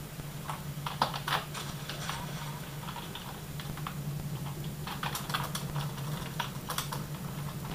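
Rapid, irregular typing on a computer keyboard while playing the PC game Unreal Gold, with clusters of clicky keystrokes close by over a steady low hum.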